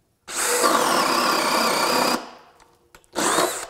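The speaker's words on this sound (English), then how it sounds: "take the DCD800, put on the 4-amp-hour compact battery in the 1½-inch spade bit" A DeWalt DCD800 compact drill on a 4-amp-hour battery bores a 1½-inch spade bit through wood with a loud whirring grind, stops, then starts again briefly.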